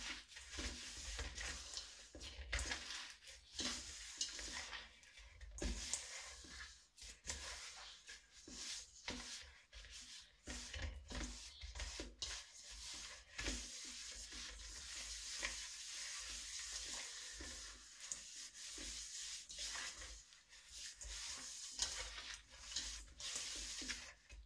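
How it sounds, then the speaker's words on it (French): Breton pastry dough of sugar, salt and yeast being mixed by hand, heard as continuous close squelching, rubbing and stirring with irregular wet pulses over about twenty-five seconds, no voices. "on mélange ça à la main"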